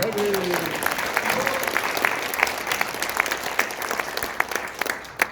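Audience applause in agreement at an open primary citizens' public hearing in a Seoul press center conference hall, a dense steady patter of many hands clapping throughout, with a voice speaking briefly at the start.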